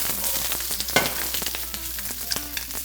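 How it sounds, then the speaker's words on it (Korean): Green onion and napa cabbage stir-frying in a hot pan, a continuous close sizzle sprinkled with sharp crackles and pops, no voices. "파하고 배추를 넣어서"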